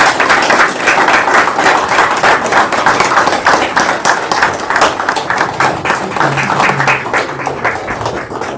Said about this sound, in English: let's give Captain Moore a round of applause